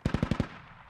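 A rapid burst of five loud, punchy machine-gun shots from an MT-LB armored vehicle in a tactical military shooter, evenly spaced and fading into a ringing tail before one more shot at the end.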